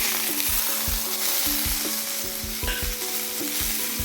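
Tomatoes sautéing in a pan for a coriander mint chutney give a loud continuous sizzle. A spoon scrapes through them in quick, regular strokes, close up, with no talking.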